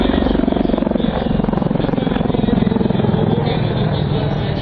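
A helicopter flies at the MAKS 2017 air show, giving a loud, steady rotor thump with fast rhythmic blade pulsing and engine roar throughout.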